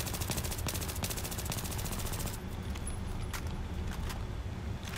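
Suppressed AEK-971 rifle firing in Battlefield 3, a quiet rapid automatic burst of muffled shots over the first half, then a few scattered single shots amid low game ambience.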